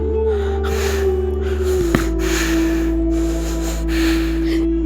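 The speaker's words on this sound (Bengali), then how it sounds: "ঠিক তখনই একটা পেছন থেকে নিঃশ্বাসের শব্দ শোনা যায়।" A breathing sound effect in a Bengali horror audio story, with a sharp gasp and snorting breaths over a low sustained eerie drone.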